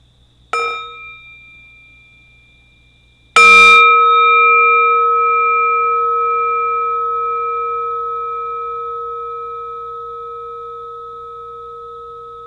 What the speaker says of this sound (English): Let's enjoy the sound of the bell.